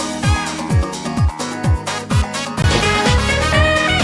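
Music reduced to 8-bit depth in Audacity to resemble 90s PC game sound, with punchy repeating bass-drum thumps and dense harmonic tones carrying a grainy noise layer, continuous and loud.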